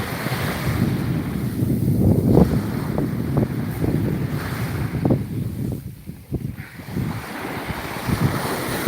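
Sea waves at a beach on the Aegean coast, a continuous wash of surf mixed with wind buffeting the microphone, moderately loud and steady with brief dips, no talk.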